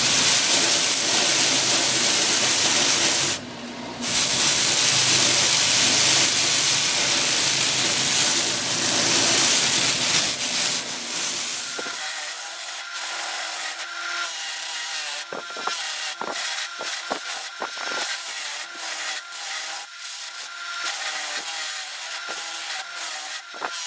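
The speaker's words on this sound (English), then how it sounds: "Okay, we're over at the mop sander." A mop sander smooths fuzz off wooden fretboard ornaments, running as a steady broadband rubbing hiss for about twelve seconds, then giving way to quieter intermittent scuffs and brief pressing bursts as pieces are worked.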